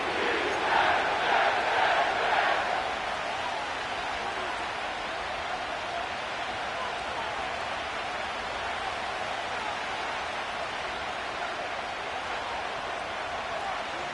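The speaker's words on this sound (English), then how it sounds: "The crowd is definitely ready." The crowd at MetLife Stadium in East Rutherford roars before an NFL football game, a dense, sustained wall of distant cheering with a louder chanting swell at the start.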